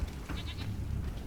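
A wounded wyvern in The Witcher 3 gives a short, wavering, goat-like bleating cry that rises in a few quick pulses and then trails off, up close and alone.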